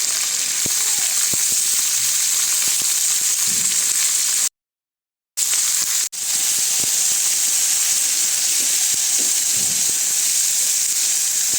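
Onions, green chillies and small dried shrimp sizzle steadily in a hot pan, a dense continuous frying hiss broken by a brief dropout, with faint stirring scrapes beneath.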